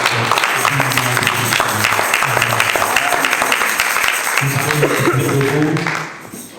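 A church congregation applauds steadily during a French-language sermon, a dense, sustained wash of clapping that fades out near the end, with some voices mixed in.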